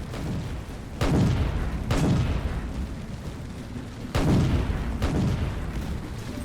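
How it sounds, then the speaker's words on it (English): The Bismarck battleship's main guns fire at an enemy ship in a naval video game. Four loud, deep booms come at irregular intervals, each rolling off into a rumbling tail, with no talk. "I'm attacking a ship right now."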